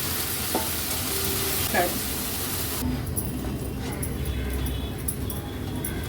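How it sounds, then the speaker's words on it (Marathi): Tomato ketchup, ginger-garlic-chili crush and Kashmiri chili powder sautéing in a pan, a soft continuous sizzle with faint stirring scrapes; the frying quiets partway through while a low hiss carries on to the end. "टोमॅटो केचप आलं लसूण मिरचीचा क्रश आणि काश्मीरी मिरची पावडर व्यवस्थित आपण सॉटे करून घेतली आहे"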